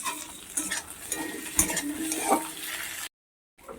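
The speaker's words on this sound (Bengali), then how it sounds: "আলুটাকে একটু লাল লাল করে পেঁয়াজের সঙ্গে ভেজে নেব" Potato pieces fry with onion in hot oil as tomato goes in. A soft sizzle sits under a few sharp spoon scrapes and pan knocks, then a brief silence.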